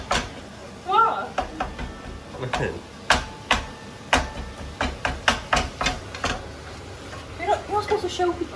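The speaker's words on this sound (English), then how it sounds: "start chopping whilst that's cooking" Knife chopping vegetables on a chopping board in a home kitchen during batch cooking, a series of sharp, close taps in an irregular rhythm while people talk in between.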